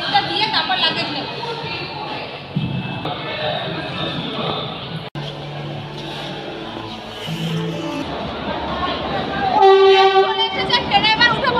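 Train at Madurai Junction: station ambience with a train rumbling nearby and a horn sounding near the end, under steady chatter and voices of people on the platform.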